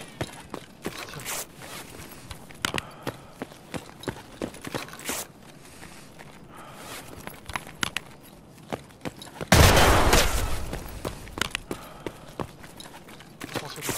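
Gunfire in the video game Escape from Tarkov: scattered sharp shots crack through the clip, ending in a loud, dense burst near the end, with footstep-like rustles in between.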